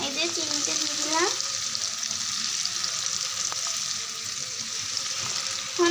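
Chopped tomatoes and sugar frying in a pan, a steady close sizzle throughout, with a few scrapes of a spoon stirring early on and a faint voice in the background.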